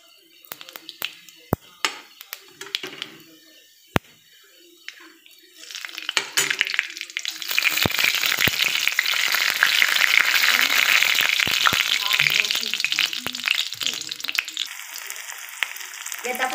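Cumin and mustard seeds hit hot oil in a pan for Maharashtrian broccoli bhaji. After a few scattered clicks and pops, a loud, close, steady sizzle builds and holds, and a voice can be heard faintly underneath.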